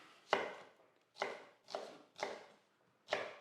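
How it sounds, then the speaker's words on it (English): Onions chopped with a knife on a board, five crisp separate strokes at an uneven, unhurried pace, close and clear with no talking. "we'll just chop a few onions, get that going"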